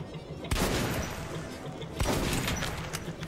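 Two loud, sharp gunshots crack at a shooting range, spaced about a second and a half apart, each followed by a brief echoing tail over a noisy outdoor background.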